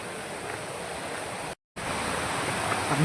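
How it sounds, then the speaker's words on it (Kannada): Water rushing steadily at Ezharakund waterfall in Kerala, a dense, constant roar that breaks off briefly midway and then resumes at the same level. "ನೀರ್ದು ಸೌಂಡ್ ಕೇಳಿಸ್ತಾ ಇರ್ಬೇಕು ನಿಮಗೆ"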